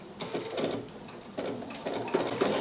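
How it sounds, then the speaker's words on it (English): An embroidery machine sews a seam across layered fabric and batting on a small mug rug, giving a mechanical whirring with faint ratcheting ticks that swells in short bursts, close and alone. "Start the machine, and it's going to sew that seam across"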